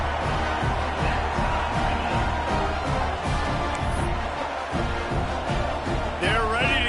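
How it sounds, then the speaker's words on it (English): Football stadium crowd buzzing after a score, a dense continuous roar of many voices at steady loudness, with a commentator talking over it. "this crowd is buzzing after that last score"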